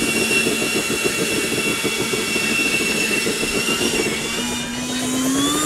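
A large model Magnus-effect plane makes a high-speed run on concrete, its engine droning steadily and loudly throughout with a continuous whine that rises in pitch near the end.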